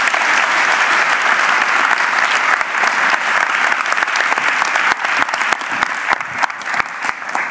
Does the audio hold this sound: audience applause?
yes